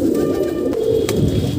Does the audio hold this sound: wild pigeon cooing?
yes